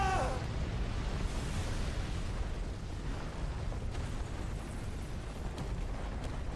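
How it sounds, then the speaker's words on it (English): A Giga Flare attack explosion in the video game Final Fantasy 16 makes a loud, sustained roaring blast that fills the whole stretch with dense rumbling noise. "Ooh, Giga Flare this time"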